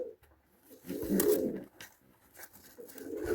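Pigeons coo softly nearby in low, throaty bursts, a couple of rounds with brief pauses and light rustling between.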